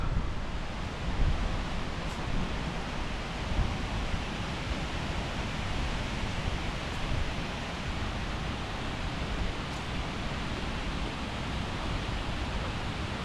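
The waterfall at Cotter Force, near the bench seat, rushes as a steady, loud, broadband roar of falling water that continues unbroken with no voices.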